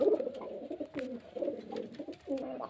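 Pigeons kept for sale coo steadily in a loft, a low throaty rolling call repeating nearby with slight pauses between phrases and no voices over them.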